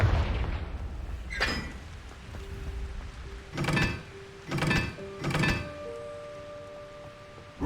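Confringo fire-blast spell explosions in Hogwarts Legacy, three or four booming whooshes a second or so apart over rain-like ambient hiss and a faint sustained tone, moderately loud and close.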